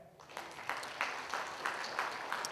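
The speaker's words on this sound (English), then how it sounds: "Give the Lord a hand clap." A church congregation claps hands together, soft and somewhat distant, in a loose rhythm of about eight beats, with no voices over it.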